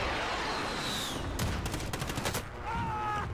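Gunfire in Call of Duty Warzone, with a quick series of sharp shots clustered in the middle over steady game ambience and a brief faint voice.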